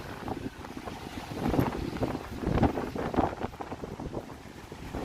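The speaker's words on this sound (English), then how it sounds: "Just had more wind." Stormy wind blows at the Toronto Harbourfront, rumbling and gusting against the microphone in uneven surges that swell and fade, with no talking.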